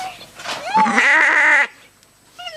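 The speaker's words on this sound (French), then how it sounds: "Alors je crois que cette chèvre sait ce qui l'attend." A goat at a village festival bleats loudly and close by in one long, wavering cry. A shorter bleat starts at the very end.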